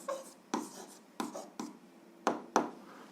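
Pen strokes on paper while an algebra exercise for seventh grade is written out: quiet, close scratching with six or so distinct taps and short strokes across three seconds, no voice.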